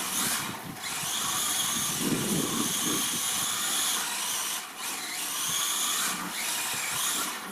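A brushless 4WD 1/16-scale RC car drifts on a hard surface, its motor whining at a high, steady pitch with brief dips as the throttle eases.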